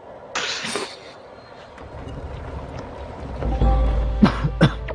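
A person coughs a few times during a Dofus gaming session, short sharp bursts near the start and again toward the end, with low background noise between.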